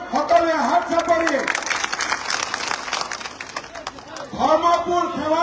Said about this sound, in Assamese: আশীৰ্বাদ কৰক সকলোৱে হাত চাপৰি